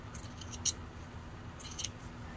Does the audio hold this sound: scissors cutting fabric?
yes